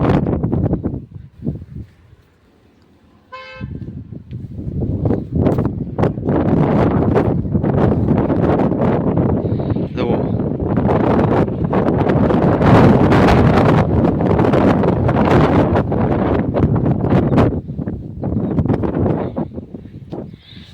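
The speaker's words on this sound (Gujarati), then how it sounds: "પવન તો છે હવે જોઈએ છીએ ઓછો પવન આવે" Strong wind roars across the microphone behind a Hanuman temple outdoors, a loud, continuous buffeting rush with gusty swells after a brief quiet start, and no talking.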